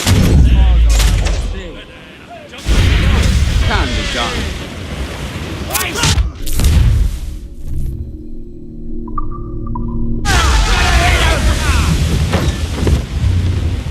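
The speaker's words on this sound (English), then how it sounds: "Fire what cannons you will, and land a few strikes if you must." Ship cannons firing in the naval combat of Assassin's Creed IV: Black Flag, heavy booming blasts and rumbling impacts over ocean wind and surf, with a brief lull and a voice speaking midway.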